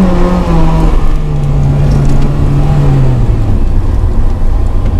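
Honda Integra Type R with a K20A engine pulls through second and third gear, a loud, steady in-cabin drone whose pitch climbs and drops at each shift, with no talking over it.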